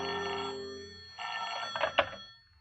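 A telephone rings in a radio drama, an old-fashioned bell trilling in a couple of clear bursts indoors, ending with a small handset clunk, with no voices over it.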